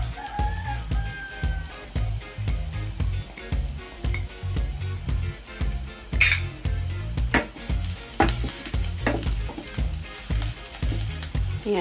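Garlic hits a hot pan with onions, sizzling and frying close up, with rhythmic stirring scrapes and clinks of a utensil against the pan throughout.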